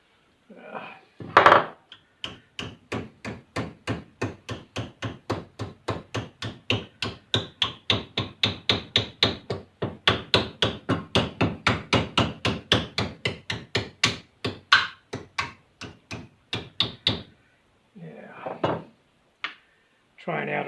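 Rapid, rhythmic hammer blows ring out on sheet metal, dozens of sharp strikes in a steady run forming a rib for an aircraft rudder, pausing briefly before a few final taps.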